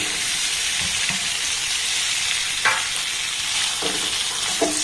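Kneaded chhana fries over a low flame and is turned with a ladle, producing a steady, even sizzle with a few soft scraping knocks of the spoon against the pan.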